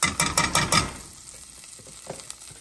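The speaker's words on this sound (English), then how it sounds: "I'm going to whisk that in just until it begins to bubble" Cornstarch is whisked into hot chocolate in a pan on the stove, with a quick run of rhythmic whisk strokes and clinks against the pan that fade into a soft, quiet simmer with a few faint taps.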